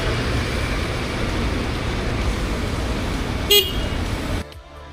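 A Honda CB350RS motorcycle horn sounds as one brief, bright honk near the end, partly masked by steady loud traffic and engine noise before everything cuts off.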